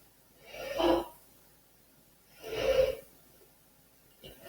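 Two forceful nasal blows, a person blowing their nose, spaced a couple of seconds apart, with a short faint snuffle at the end.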